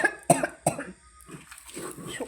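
Repeated coughing from a woman grinding sun-dried red chillies for a dried-fish mash at night, several sharp close bursts in the first second, then quieter throat sounds and breathing.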